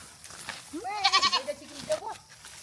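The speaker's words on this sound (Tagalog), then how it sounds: "Natakot yung kambing" A frightened goat on a rural farm gives a single wavering bleat, close and clear against a quiet background.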